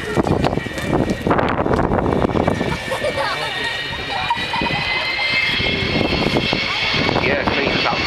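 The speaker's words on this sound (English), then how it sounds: "You can see those old turbojets, how they smoke." Roaring old turbojet engines of the Avro Vulcan XH558 at the Dunsfold air display, a loud, broad, sustained rumble with a rising whine, heard outdoors with wind and a commentator talking over it.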